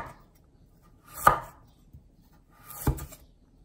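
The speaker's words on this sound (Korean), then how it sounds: "당근은 가지보다 조금 얇게 써세요." Two separate, close knife strikes thinly slicing carrots on a cutting board, each a sharp thunk with quiet pauses between and no voices.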